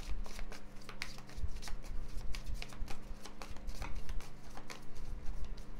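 Oracle cards being shuffled by hand, a quiet, close run of rapid papery riffles and soft slaps repeating in an uneven rhythm with no talking.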